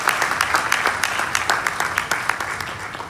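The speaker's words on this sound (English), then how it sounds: "So give them all a big round of applause for us." A convention audience at BlerdCon closing ceremonies claps steadily, a continuous wash of hands at moderate volume with individual claps popping out, and no talking over it.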